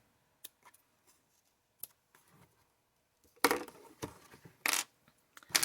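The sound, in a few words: scissors snipping thread ends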